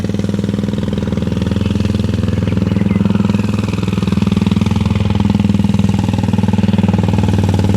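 A 350cc Royal Enfield Bullet motorcycle engine runs close by, a loud, steady, low thumping beat that holds an even rhythm throughout with a slight swell in the middle.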